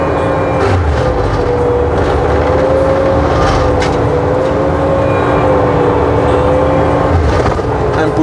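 A Bobcat forestry cutter drives forward and pushes over a tree stump, its engine a loud, steady drone with a sustained tonal whine that wavers slightly in pitch throughout.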